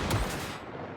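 Turret gunfire in a video game, a short loud burst of rapid booming shots that decays quickly into a ringing tail.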